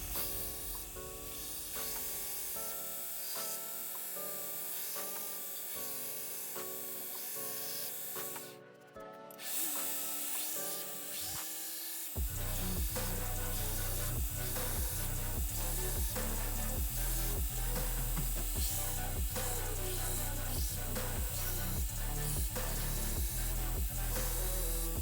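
A bog oak handle for a santoku kitchen knife is shaped on power tools, first a steady hum and whir, then a loud, continuous harsh grinding that dominates the second half.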